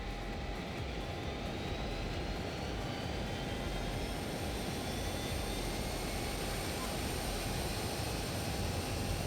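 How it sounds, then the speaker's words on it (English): Learjet jet engines in the FlySimware flight simulator game, a steady loud turbine roar with a sustained high whine running continuously throughout. "The engines start a lot faster. They sound a lot better."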